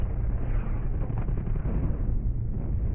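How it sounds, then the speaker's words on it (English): A grenade explodes in the World War II shooter Brothers in Arms: Hell's Highway, a dense, muffled low rumble that rolls on steadily for several seconds with no talking. "I'm throwing a grenade!"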